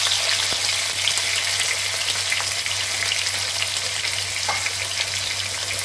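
Onions sizzle and fry steadily in hot oil with dried red chillies, a dense continuous crackle close up with occasional soft pops, no voices over it.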